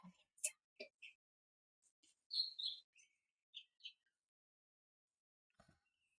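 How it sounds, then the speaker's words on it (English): Birds chirp and tweet outside a house in short, scattered high bursts, faint and fairly distant, with quiet gaps between the calls and a brief low thump near the end. "Ooh, the birds are chirping."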